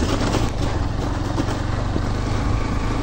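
A motorcycle engine strains in second gear, pulling uphill under load on a rough trail near Baropkunda, Sitakunda, giving a steady, loud droning rumble with no talking.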